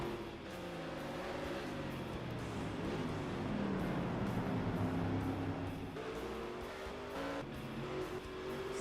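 Race cars roar down the front stretch at Brands Hatch in a racing video game during an Indy race, engines droning loudly and continuously with pitch sweeps as cars shift and pass in close succession.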